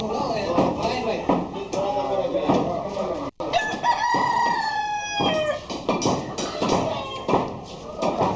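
Chickens at a chicken market in Vavuniya cluck and crow close by, a busy, continuous fowl chorus mixed with people talking nearby.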